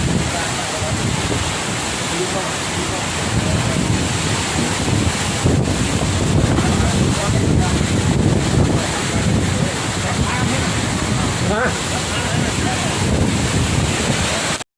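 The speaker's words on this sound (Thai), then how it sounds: "พายุเข้านะครับช่วงนี้ ลมแรงมากๆ" Strong storm wind in Thailand buffets the microphone with a constant heavy roar and rumble, loud and unbroken throughout.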